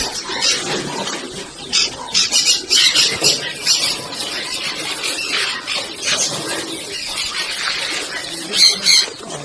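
Farm birds give loud, agitated alarm calls, a dense overlapping chorus of squawks and squeals close by for several seconds, set off by a rat snake entering the farm.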